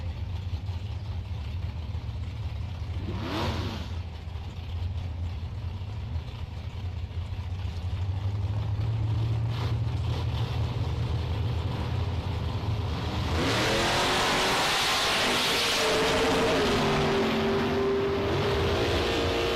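Mustang drag racing car at a bracket race, engine idling low and steady, then a loud rising rev and roar from about 13 seconds, with pitch climbing as it launches.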